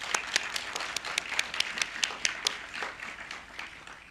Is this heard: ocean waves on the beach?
no